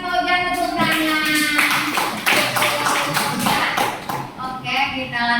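Schoolchildren in a junior high school classroom clap for a classmate, a burst of quick, close, uneven clapping mixed with voices.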